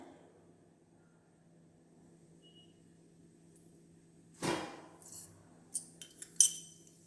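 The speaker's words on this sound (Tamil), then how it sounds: "கடுகு பொரியுதுங்க." Mustard seeds spluttering in hot oil: after a quiet low hum, a few sharp crackling pops burst out in quick irregular succession, close and clear with no talking.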